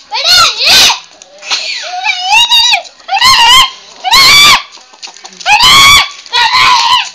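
A rooster held by a child squawks and screeches in loud, close, repeated bursts, about seven harsh cries separated by short pauses, with children's voices mixed in.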